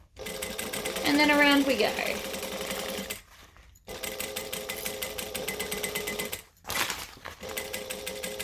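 Sewing machine stitching forward and back stitching along a strap, a steady loud mechanical whir that stops in two short pauses, with a person talking over it.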